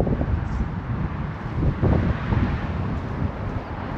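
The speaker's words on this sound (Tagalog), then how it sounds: "Mahangin kasi guys, kaya malamig" Strong wind buffeting the microphone on a lookout hill, a continuous low rumbling roar with gusty swells, loud and close.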